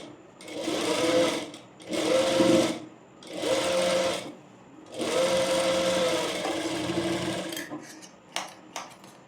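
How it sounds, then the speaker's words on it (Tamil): An electric sewing machine stitches a three-dart blouse in four whirring runs separated by short pauses, followed by a few light clicks and handling taps near the end. "அதை லைட்டாக பொறுமையாக ஸ்டிச் பண்ணிவிட்டு ஊசியை உள்ளார வச்சுட்டு தான் டேர்ன் பண்ணணும்"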